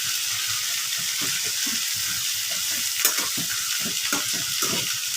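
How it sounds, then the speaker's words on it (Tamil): Adamant creeper sautés in a pan with tamarind, salt and chilli for a thuvayal, a bright steady sizzle under repeated rhythmic scraping stir strokes, close and fairly loud, with no speech. "இது வந்து ஒரு 10 நிமிஷமாவது வதக்கலாம்."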